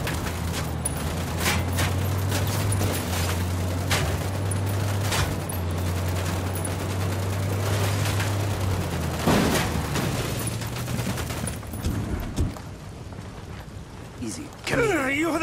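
Gunfire rattles through a firefight in the video game Ghost Recon Wildlands, dense bursts and single cracks layered over a low droning hum that fades midway, ending in a few sharp louder shots near the close.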